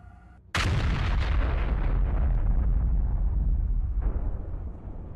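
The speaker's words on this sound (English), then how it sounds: "The drone closes in on the target and there's another explosion." An explosion from a drone strike on a vehicle: a sudden loud blast erupts, then rolls into a long, rumbling roar that slowly fades, with a second smaller burst partway through.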